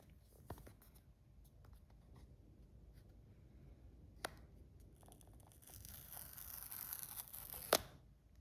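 Plastic wrapping being peeled off an iPhone 17e box, heard as quiet, close crinkling and rustling with a few sharp ticks, building into a brighter, denser tearing rustle toward the end.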